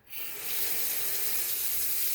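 Warm water runs from a tap into a sink in a home caregiving routine, a steady close hiss that starts abruptly and continues without pause.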